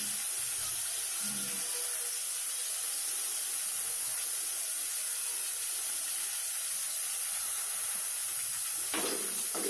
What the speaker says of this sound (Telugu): ఇవి కూడా ఫ్రై చేస్తున్నాము మనము.